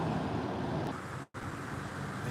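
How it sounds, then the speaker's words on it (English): A truck pulls slowly out in front and turns on a street, giving a steady, close low rumble of engine and road noise with a brief dropout near the middle. "I think it's synced with this truck driving out in front of me"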